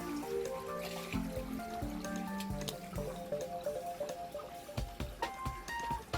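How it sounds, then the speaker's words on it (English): Water splashes and drips as a sample container is rinsed during a water purification process, with continuous pouring and sloshing, scattered droplet hits and a few sharper knocks of the container, close and fairly loud throughout. "We'll give it 3 rinses."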